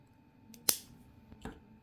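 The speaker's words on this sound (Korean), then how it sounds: "이제 남은 와이어는 잘라줄게요" Scissors snip through leftover jewelry wire with a sharp, bright click, followed by a softer second snip a moment later, both close and isolated in a quiet room.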